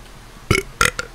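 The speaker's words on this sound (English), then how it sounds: "Shoutouts to Monster Energy for giving me energy and making me burp." Two loud burps close together, followed by a short fainter third, after drinking a can of Monster Energy, heard alone without speech.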